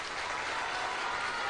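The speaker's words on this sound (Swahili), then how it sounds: "Tafadhali pigieni Mheshimiwa Korir makofi." A crowd at a press briefing breaks into applause for Hon. Nixon Korir, a dense, continuous wash of clapping at steady loudness throughout the short moment.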